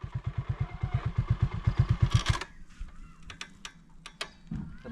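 A motorcycle engine chugs in a fast, even pulse of low thumps for about two seconds, then cuts out, leaving faint clicks and rustles outdoors.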